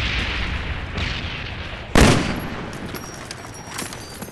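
A single heavy blast from a friendly napalm strike in a first-person shooter game, a sharp broadband boom near the two-second mark that rolls off into a long rumbling tail over ongoing battle noise.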